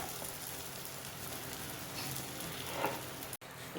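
A rolled drumstick-pulp paratha sizzles steadily on a hot griddle, a soft continuous crackle close by with a brief louder flare near the end and no talking.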